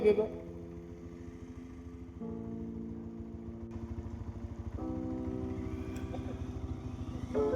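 A motorcycle engine hums steadily at close range, its tone rising in steps as it shifts and accelerates, with voices faintly underneath.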